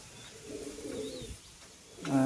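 A pigeon coos softly nearby, a low rounded throaty call swelling for about a second before fading, then a brief sharper sound at the end.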